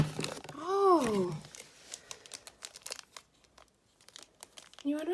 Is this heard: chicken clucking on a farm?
no